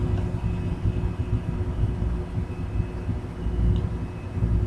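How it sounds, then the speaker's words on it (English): A New Jersey Transit multilevel train on the North Jersey Coast Line in Train Simulator 2019 roars steadily with a loud, continuous low rumble and engine drone throughout. "That sounds like every New Jersey Transit train that I have ever encountered in my lifetime."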